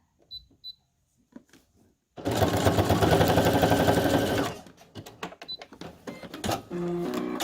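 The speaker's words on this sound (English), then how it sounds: "I'm going to sew it in zigzag" Sewing machine stitching a zigzag seam on journal tags, a loud rapid mechanical whir that runs for about two seconds and then stops, preceded and followed by faint clicks and handling sounds.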